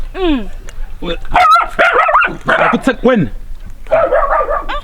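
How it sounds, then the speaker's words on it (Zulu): Dogs barking and whimpering close by in a Zulu-language drama scene, with short yips and whiny barks mixed in and out of people talking over them. "Izinja zakho lezi."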